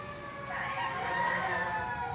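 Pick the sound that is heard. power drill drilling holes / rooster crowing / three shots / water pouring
rooster crowing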